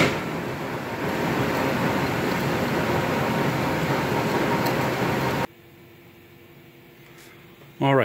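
A Leblond lathe turns down a weld-built steel roll bearing journal on a large 4000 lb roll, giving a loud, steady broadband cutting roar for about five seconds before it abruptly drops to a quiet machine hum, then briefly swells again.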